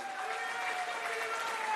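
Audience applause at a political speech at the Constitution Club, a dense steady clapping from a crowd that fills the whole stretch with no pauses.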